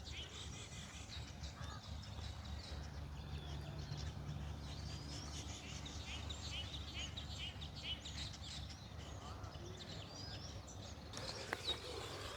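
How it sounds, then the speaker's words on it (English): Faint birdsong with scattered chirps drifts over a steady low outdoor hum, continuous and distant, with no one talking, at an animal farm and big cat park in Stellenbosch. "Just love listening to the birds, eh?"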